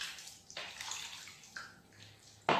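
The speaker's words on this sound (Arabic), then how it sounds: "الماء من الروبيني" Tap water runs into a sink while homemade spiced ghee (smen) is rinsed and kneaded by hand to wash out the milk, a fairly quiet splashing flow with a louder gush near the end.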